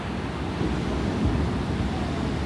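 Ocean waves crash and surge at Santa Monica beach, a steady loud roar of surf with gusty wind noise across the microphone and a swell building in the middle.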